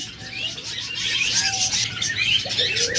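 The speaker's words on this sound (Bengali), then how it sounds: "এবার আপনাদের বাজরিগার পাখি দেখাই।" Budgerigars chirp and twitter in a cage among other birds, a busy chorus of quick high tweets and warbles, close and continuous with no talk.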